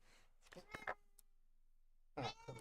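A pet cat gives a few short, close meows, two near the start and one after a pause, soft against a quiet room, with a person talking nearby.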